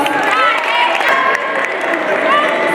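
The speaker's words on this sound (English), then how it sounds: "A round of applause" Audience at a student council campaign event applauding after a speaker leaves the podium, a sustained burst of clapping and crowd noise mixed with cheering and a voice talking over the clapping.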